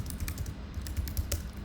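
Quick, steady taps on a computer keyboard as a title is typed, a close, even run of soft clicks with no talking.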